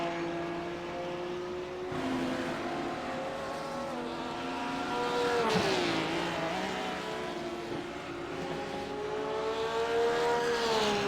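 A GT3 race car laps Watkins Glen in a sim racing game, its engine wailing through climbing and dropping gear changes, downshifting and accelerating steadily with a loud, continuous whine and no voices.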